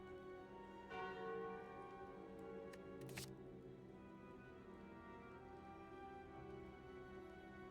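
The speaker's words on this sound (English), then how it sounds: "Ding dong, crack the dawn. It is a calling bell." A Calling Bell relic chimes in Slay the Spire: one soft metallic strike rings near the start with a brighter ring around three seconds, decaying over a quiet, steady game music bed.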